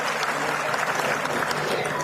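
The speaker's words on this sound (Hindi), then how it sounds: "सुनीता सिंह जी के लिए जोरदार तालियां" Warm, sustained applause from the audience at a women's conference in Panchkula, welcoming speaker Sunita Singh. The steady clapping fills the brief moment without a break.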